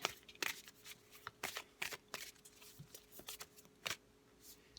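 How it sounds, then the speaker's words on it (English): Tarot cards being shuffled by hand, close and quiet: a run of soft riffling flutters and taps in uneven bursts with no voice. "I'm just going to pull 3 cards to finish the reading"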